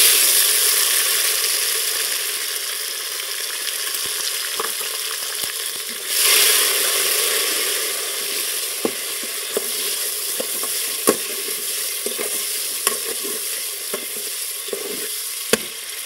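Onion, crushed garlic and tomatoes fry in a pan with continuous loud sizzling. Scattered clicks and scrapes from stirring punctuate the sizzle throughout.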